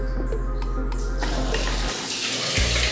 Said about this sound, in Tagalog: i-drain tapos lalabas doon ng tubig